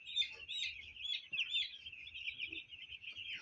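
Young chicks on a poultry farm peep in a continuous high, faint chorus of overlapping cheeps that runs steadily throughout, with no talk.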